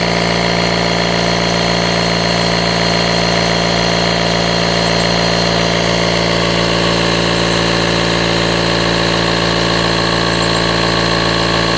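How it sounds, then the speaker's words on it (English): An Auxito A501 rechargeable tire inflator compressor runs steadily and loudly at close range, a constant mechanical drone with strong harmonic tones and no speech throughout. "I'm going to start the compressor, and it's going to take it to 4 psi"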